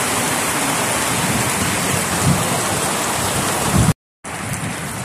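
Heavy, steady rain hisses continuously close by, broken by a brief total dropout near the end before the downpour resumes.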